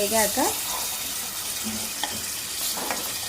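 A spoon stirs tomato sauce and soy sauce together in a hot pan, scraping steadily over a constant sizzle of frying, with a brief murmur of voice at the start.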